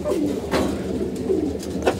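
Pigeons coo repeatedly at a backyard coop, a low rolling warble running steadily through the whole moment with soft breathy pulses, fairly close and alone with no talk.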